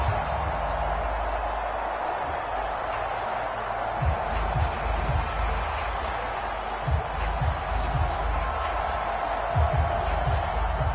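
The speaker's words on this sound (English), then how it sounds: "This crowd turning up the decibel level." Stadium crowd roar from a Madden NFL 24 football game between the 1997 Miami Dolphins and New England Patriots, a steady loud wash of crowd noise with a few low thumps, under a commentator's voice.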